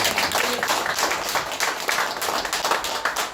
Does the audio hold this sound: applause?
yes